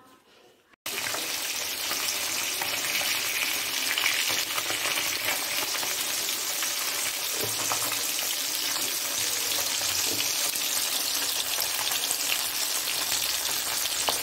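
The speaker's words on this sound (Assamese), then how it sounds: "তো এতিয়া মাছখিনি ভাজি লওঁ আগতে" Fish sizzling and crackling in hot oil, a loud, steady frying hiss throughout with occasional spits and pops.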